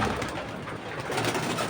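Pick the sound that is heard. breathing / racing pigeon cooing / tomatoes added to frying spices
racing pigeon cooing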